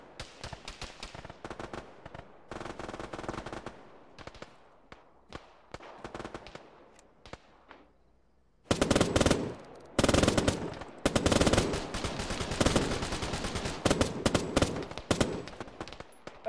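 Automatic machine gun fire in a ShackTac military video game: scattered single shots and short bursts at first, then long, loud, dense rattling bursts that continue to the end.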